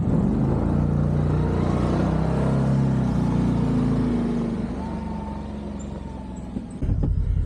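UTV engine rumbling steadily on a morning ride in the Tushar Mountains, a continuous low drone that eases slightly partway through before a short jolt near the end.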